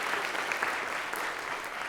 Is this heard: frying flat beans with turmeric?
no